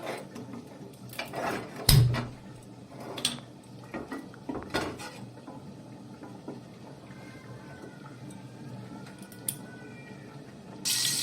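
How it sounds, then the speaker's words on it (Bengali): A household gas stove is switched on in a kitchen, giving a few faint mechanical ratcheting clicks from the knob, with a sharper burst near the end. "গ্যাস অন করে নিচ্ছি।"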